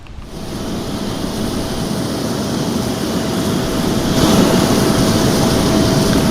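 A jet carrying the president lands at Halim Perdanakusuma airport in Jakarta, a loud steady engine roar that swells and thickens toward the end, with no voices.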